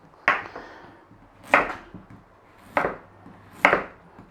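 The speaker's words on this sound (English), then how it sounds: "we're just going to slice it, fairly reasonable size slices" A knife cuts a carrot into fairly large slices on a board, four separate firm chops spaced about a second apart, close and clear with quiet gaps between.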